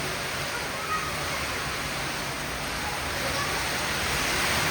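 Dense, steady hiss of a heavy cloudburst downpour in a village, pouring without pause, loud and close, filling the whole stretch evenly.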